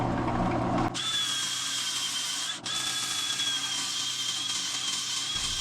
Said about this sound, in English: So sand, 80 to 400 grit, some Yorkshire grit